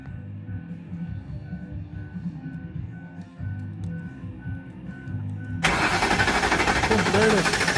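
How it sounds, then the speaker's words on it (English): A 2012 Ford Thunderbird's engine is turned over by the starter with the ignition off, spinning without catching. A low rumble gives way midway to a loud, steady, close-up churning roar that runs to the end. "if the engine spins, that's telling me that the starter is functioning"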